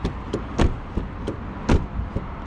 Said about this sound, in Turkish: Kapılar tok açılıp kapanıyor arkadaşlar.